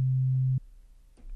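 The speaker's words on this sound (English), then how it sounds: "you'll hear that hard panned sine wave" A pure, steady low hard-panned sine tone from MilkyTracker holds for about half a second, then cuts off abruptly, leaving near silence with faint low rumble.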